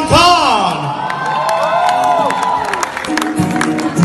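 A crowd at an event for Salman Khan in Abu Dhabi whoops, shouts and cheers loudly and steadily, with applause mixed in, all close and lively for several seconds.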